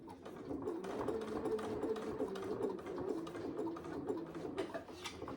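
A sewing machine runs in a steady, close hum while stitching along the front of a saddle bag, its motor whirring evenly with faint ticking and no voices.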